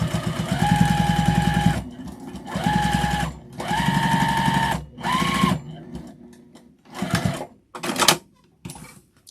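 A sewing machine back stitching a fabric mug rug made from scraps: several close, loud runs of fast stitching a second or so each, separated by brief pauses, then a few shorter bursts.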